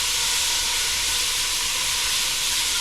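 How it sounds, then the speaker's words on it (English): Onions, carrots and celery sweating in a hot pan, a loud, continuous close-up sizzle with no breaks. "we're just going to sweat this down for probably about 3 to 5 minutes"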